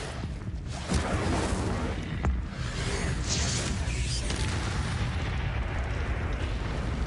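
Incendio fire spell explosions in the video game Hogwarts Legacy, a continuous loud rumbling roar of booms and crackling blasts close up that barely lets up.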